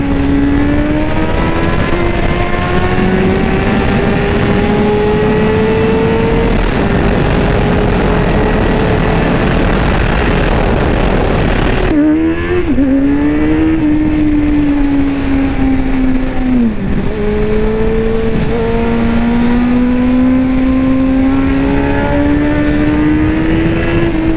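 A Honda CBR 600 F sport motorcycle engine hums steadily at speed, pitch rising through the gears, dipping briefly and climbing again; loud, close and continuous with no talk.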